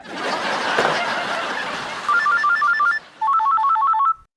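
A telephone rings twice in clear electronic trilling bursts, close and loud, after a few seconds of muffled background noise and a brief laugh-like sound, in a domestic scene from a Hindi sitcom.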